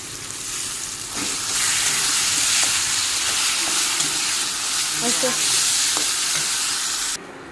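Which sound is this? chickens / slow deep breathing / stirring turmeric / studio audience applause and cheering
stirring turmeric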